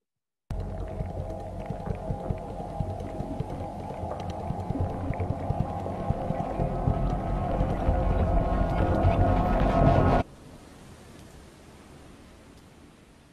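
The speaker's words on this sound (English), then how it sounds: "you can run an algorithm over the words of a plant description and it will give you that sound" Algorithmically generated sound made from the words of a plant description: a dense, droning, noisy texture with faint tonal threads, holding steady for about ten seconds before dropping to a quieter hiss.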